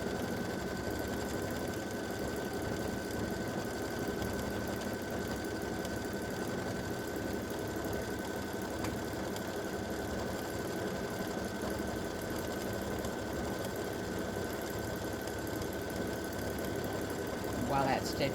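An embroidery machine stitches a hummingbird and hibiscus edge-to-edge quilting block, a continuous close mechanical whir and rapid needle chatter holding steady throughout.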